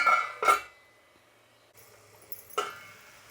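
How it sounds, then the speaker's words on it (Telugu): Metal lid set onto a pan of frying mushrooms, two sharp clinks close together at the start, then a quieter clatter and a final clink after a pause. "మూత పెట్టేద్దాం."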